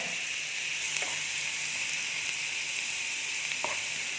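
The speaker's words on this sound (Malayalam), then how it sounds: "നമുക്ക് വെളുത്തുള്ളിയും കൂടി ഇട്ട് കൊടുക്കാം. വെളുത്തുള്ളി നല്ലപോലെ വഴന്ന് വരട്ടെ." Garlic frying in a pan for a dates curry, with other ingredients already wilting in the oil: a steady, continuous sizzle holds throughout, broken by a couple of faint stirring ticks.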